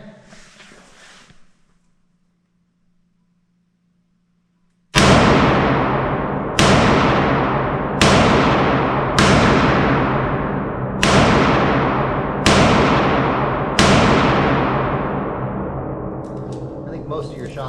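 Smith & Wesson J-frame snub-nose revolvers fire six sharp, loud shots at an even pace about two seconds apart, each ringing out into a long decaying echo, after a brief murmur of talk.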